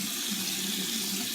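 Steady running water from a bathroom tap filling or splashing into a sink while a nose is wetted, a continuous even broadband hiss with no voices.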